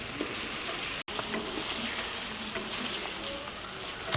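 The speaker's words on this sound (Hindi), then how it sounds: "अदरक और लहसुन में चिकन को अच्छे तरीके से भून लेना है।" Chicken browning with coarsely crushed garlic and ginger in a karahi, a dense continuous sizzle with scattered crackles and pops at close range, briefly cutting out for an instant near the start.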